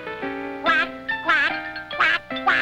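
Voice imitating a duck with a series of nasal, buzzing quacks, four or five loud close calls in quick rhythmic succession.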